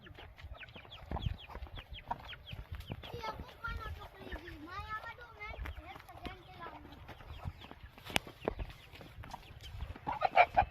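Rooster and hens clucking and squawking repeatedly nearby, with a burst of agitated calls, over a low rumble and some talking.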